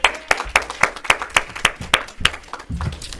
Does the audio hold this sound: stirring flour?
no